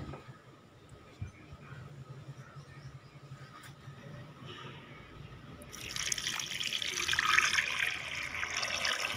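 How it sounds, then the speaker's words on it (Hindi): Jaggery dissolved in water being strained through cloth, a soft trickle of liquid that grows louder and splashier after several seconds, with faint handling noises earlier. "ये देखिए, कपड़े की मदद से इसको छान लें"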